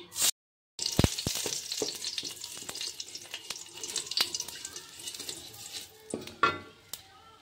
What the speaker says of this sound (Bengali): ওই কড়াইতে এবার আমি ঘি দিয়ে দিচ্ছি